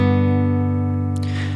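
An acoustic guitar rings out as three strings are plucked together once, a single full chord that sustains and slowly decays, close and clear with no talking.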